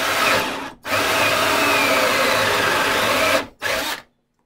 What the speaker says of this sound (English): And now I just drill it out.